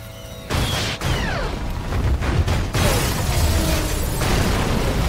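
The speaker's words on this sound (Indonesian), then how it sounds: "The Collector membakar sudut gedung dan sebagian gedung meledak." Part of a building bursts apart in a fiery blast in the film The Collection, a sudden loud boom that rolls into a sustained roar of debris and flames, with crackles and rumbling continuing to the end.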